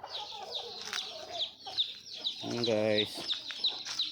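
Newly hatched chicks peep in a repeated series of high, thin chirps close by on a provincial farm, while someone talks briefly over them.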